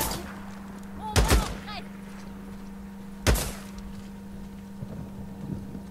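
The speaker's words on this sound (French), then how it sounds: "Là, je tire pour qu'elle reste cachée" Gunfire in the Days Gone video game: two sharp, loud shots about two seconds apart over a steady low hum, followed by faint scattered sounds, with no talking.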